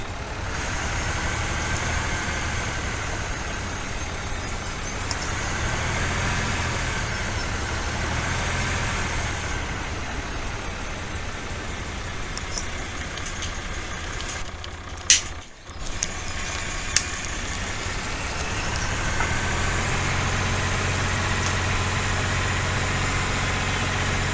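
A heavy Gardner 320 tractor engine in Farming Simulator 17 drones steadily at moderate volume, with a brief sharp click partway through and the rumble swelling slightly toward the end.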